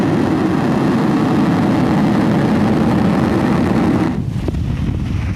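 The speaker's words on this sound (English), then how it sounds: "Ignition. And liftoff of Falcon 9." Falcon 9 rocket engines at liftoff on a SpaceX rideshare mission roar as a loud, steady, deep rumble heard from a distance, easing slightly near the end.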